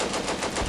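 Rapid gunfire from the video game Combat Mission: Beyond Overlord, a short dense rattling burst of shots heard alone at moderate loudness.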